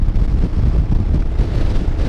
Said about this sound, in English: Now it is a really windy morning